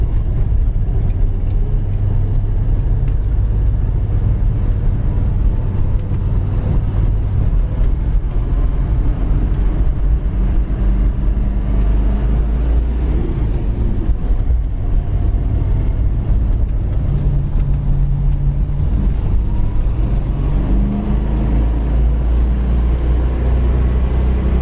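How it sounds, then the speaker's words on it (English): A 1970 Plymouth Duster with a 340 V8 and four-speed idles at around 800 to 900 RPM, making a loud, steady, deep rumble that stays unbroken throughout with no voices. "Really idles nice at like I said, at 900, 800 RPM."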